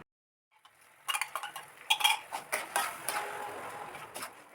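Blended spice paste added to sautéed shallots in a pan, with a utensil scraping and clinking against the cookware in quick, uneven strokes at close range and no talking.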